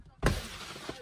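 Car window glass smashes in one sudden, loud crash, followed by a noisy rush of falling shards under agitated voices.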